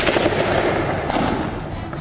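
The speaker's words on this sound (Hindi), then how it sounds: "खामेनेई के खिलाफ विद्रोह कर रहे लोगों को चुन चुन कर गोली मार रही है।" Gunfire in the streets of Iran during a violent crackdown on protesters, loud rapid cracks and bursts of shots in quick succession over a dense, roaring background, close and harsh with no clear speech.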